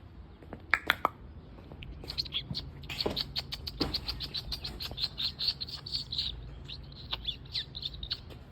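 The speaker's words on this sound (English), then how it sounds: "Get that bird out of here." A small bird trapped inside a warehouse chirps in quick, repeated high tweets, moderately close in a reverberant room, with a few scattered thumps and faint background noise.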